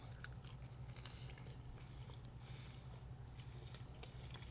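Close, steady chewing and crunching of homemade home fries, soft crisp bites repeating over a low constant background hum, with no talking.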